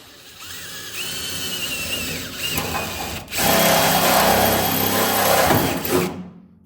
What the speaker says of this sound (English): let the drill do its work